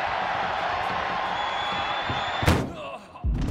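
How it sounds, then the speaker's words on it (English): A car-style ambulance door slams shut during a WWE 2K24 wrestling match, one loud thud landing over constant crowd noise and commentary, with a second heavy impact following shortly after. "Trying to at least slam one door shut."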